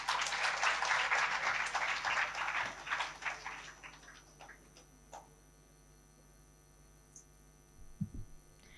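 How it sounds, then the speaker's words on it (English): Audience applause for a contestant at a student speaking competition, a burst of dense clapping that fades out over about four seconds, followed by quiet hum and a few faint knocks. "Please clap for her."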